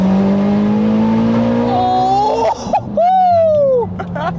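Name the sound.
700HP Mitsubishi Evo turbo car accelerating, shifting to third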